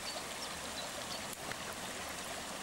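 A small polluted stream carrying diesel or oil flows and trickles in a steady, even outdoor wash of water noise, moderately soft with no voices.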